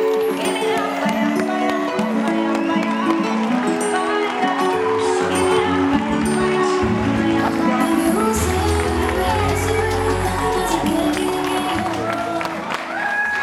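A live crowd cheers for the singer at a televised music show, loud whoops and clapping mixed with a music track carrying melody and bass, the noise sustained throughout.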